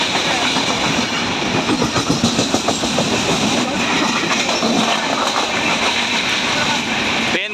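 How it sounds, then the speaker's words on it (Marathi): A train rumbles past near a railway tunnel by a tall waterfall, a steady loud roar of wheels and rail clatter filling the whole stretch, with voices faintly underneath. "हे बघा, ही ट्रेन जाते इथून"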